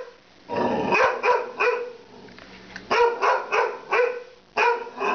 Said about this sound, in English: This is the most I've heard her bark.